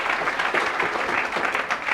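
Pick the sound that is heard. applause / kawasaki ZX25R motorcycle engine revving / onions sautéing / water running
applause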